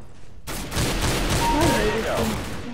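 Gunfire in CS:GO Arms Race starts suddenly, then a dense, loud volley of shots keeps going, with a voice over part of it and short tonal game sounds mixed in.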